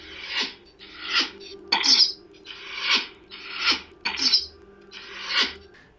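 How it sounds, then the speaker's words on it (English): A toy Luke Skywalker lightsaber plays its bow-and-arrow effect: seven evenly spaced, breathy whooshing bursts repeat at a steady rhythm, close and fairly loud. "it will make like a bow and arrow effect"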